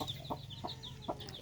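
Chickens on a farmhouse veranda give short, soft repeated clucks in quick succession, with higher chirps from a chick over low background noise.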